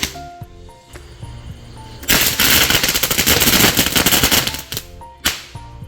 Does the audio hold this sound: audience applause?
no